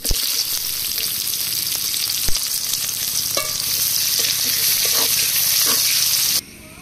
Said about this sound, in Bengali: পেঁয়াজগুলো লাল লাল করে ভেজে নিয়েছি।